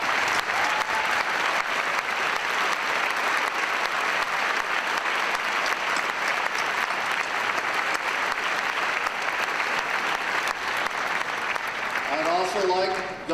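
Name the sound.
graduation audience applauding service members and first responders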